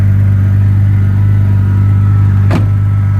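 A Gemballa-tuned Porsche Carrera GT runs at a steady, loud idle with a deep, even low hum and faint rumble throughout, plus one brief sharp click or knock near the end; no one speaks.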